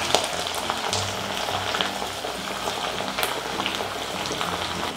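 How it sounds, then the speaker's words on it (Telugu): Cut brinjal pieces frying in hot oil in a pan, a dense, continuous sizzle like steady rain with faint bubbling, close and even in level throughout, with a few light clicks and no voices. "ఆయిల్ వేడెక్కిన తర్వాత మనం కట్ చేసి పెట్టుకున్న వంకాయలు వేసుకోవాలి."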